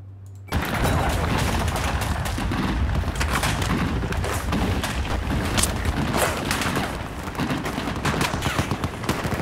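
Dense, continuous gunfire from a Battlefield 4 single-player campaign battle: rapid automatic bursts and heavy booms layered into a loud, unbroken fusillade that starts abruptly after a brief quiet moment and rages on to the end.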